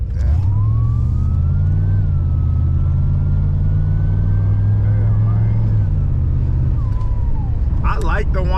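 A broken-down car's engine runs close and loud, with a steady high whine that climbs in pitch and then holds over a deep rumbling idle. A brief voice cuts in at the very end.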